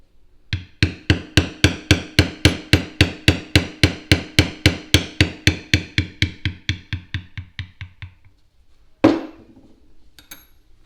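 A hammer strikes a leather stamping tool to press an impression into leather, about thirty sharp, evenly spaced close taps that fade slightly toward the end, followed by one louder knock.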